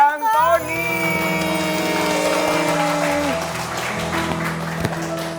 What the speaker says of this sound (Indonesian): Langsung aja kita panggil dan berikan tepuk tangannya meriah.